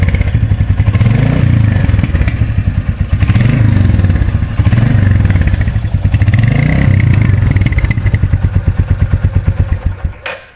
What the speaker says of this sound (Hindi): इस बाइक का जो साउंड है